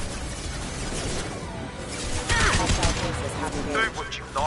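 Gunfire crackles in a Mass Effect 2 firefight, mixed with a busy din of battle effects and brief voices or creature sounds, growing louder midway.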